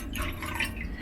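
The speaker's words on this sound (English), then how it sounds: "we're going to pour it into the dandelion jelly" Lemon juice poured into violet and dandelion jelly, a steady trickling, splashing liquid pour heard up close and continuous throughout, with no talking over it.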